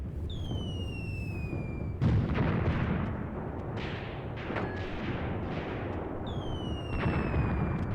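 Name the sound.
artillery fire in Graviteam Tactics video game battle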